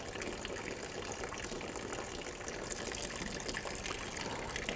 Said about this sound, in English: we're releasing any water off the lower chamber of the valve